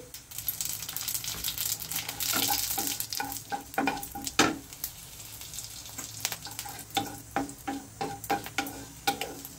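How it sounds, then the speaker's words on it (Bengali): Two dried red chillies and half a teaspoon of radhuni seeds fry in hot oil, a soft close sizzle punctuated by sharp, uneven clicks and scrapes of stirring against the pan, with no talk. "এখন এখানে হাফ চা চামচ রাঁধুনি ফোড়ন দিয়ে দিচ্ছি।"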